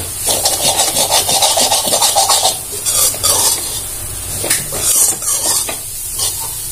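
A spatula scrapes and stirs fried egg through carrots and greens in a pan, giving loud rhythmic rasping strokes over a soft sizzle, pausing briefly before more scraping.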